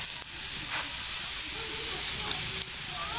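Besan roti, a gram-flour flatbread, frying in oil on a griddle, giving a steady close hiss and sizzle with small crackles throughout, while someone talks over it.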